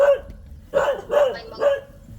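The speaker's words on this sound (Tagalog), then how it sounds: "Tuwa yung mga aso." Dogs give about four excited barks in quick succession, close and moderately loud, with brief quiet gaps between them.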